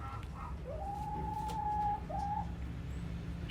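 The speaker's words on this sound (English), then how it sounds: "There's a little Bantam hen right there." On a farm, a small Bantam hen makes a faint, drawn-out call that rises and then levels off, followed by a short second note, heard alone over quiet background hum.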